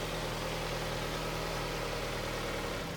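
A 2016 Jeep Cherokee in Brilliant Black idles steadily with a low, even engine hum and faint vibration throughout, heard close and alone with no talking.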